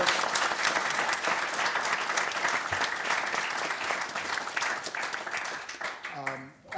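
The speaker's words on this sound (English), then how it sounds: "I'd like to get a round of applause" An audience applauds at a conference welcome session, dense steady clapping that carries on for several seconds before thinning out, with a voice starting to speak near the end.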